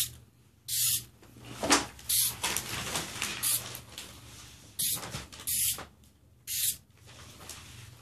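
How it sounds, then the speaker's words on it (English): Several short hissing bursts from a spray paint can, each about half a second, separated by pauses and light handling noises. "always do a test shot, just to make sure everything's spraying right"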